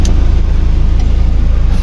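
A grandfather's car engine runs close by, a loud, steady low rumble with a fast throbbing pulse, and no voices over it.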